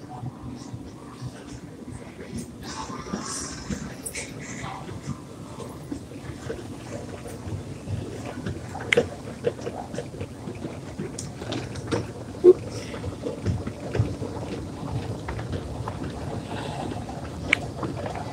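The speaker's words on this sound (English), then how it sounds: "Take a ride on the escalators." Airport escalator running through a ride, giving a steady low mechanical rumble with a faint broadband hiss and occasional light clanks and knocks, continuous throughout.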